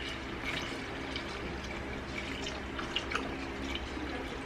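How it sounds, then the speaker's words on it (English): Water is added into a cooking pot, a steady splashing, trickling pour with a few small drips, moderately quiet and close, without talk. "I'm going to add water."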